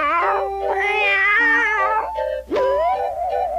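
A cartoon cat lets out long, wavering meows and yowls, loud and close, one drawn-out cry followed by a rising second wail, with no talking over it.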